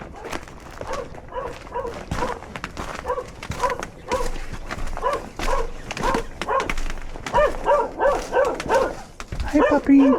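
A small dog yips and whimpers repeatedly in short, high bursts, close by, with some background noise.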